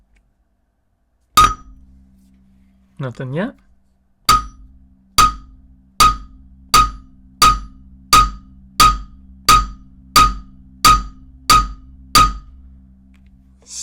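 A hammer strikes an Apple Watch Ultra screen protector in about eleven sharp, ringing glassy taps at a steady, even rhythm, each loud and close with a brief decay. A short squeaky scrape comes before them, and a voice speaks briefly.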